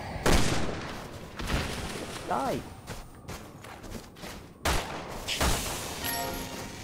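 Heavy magnum revolver shots in Resident Evil 6, booming in a few sharp blasts amid combat noise and a growling monster, with someone talking over the action.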